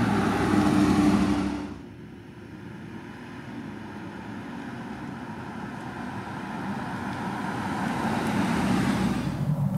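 A BMW X5 50i with a V8 engine cruising through Brentwood near Beverly Hills, heard from inside as a steady, loud low road and engine rumble that swells slightly near the end.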